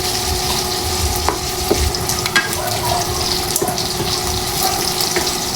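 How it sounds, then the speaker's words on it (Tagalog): Chicken sizzles steadily in a hot pan for chopsuey, sautéed before onion and garlic go in, with occasional clinks and scrapes of a utensil stirring. "tigisa lang muna natin or sangkutsahin ang ating pong chicken bago natin ilagay yung sibuyas at bawang"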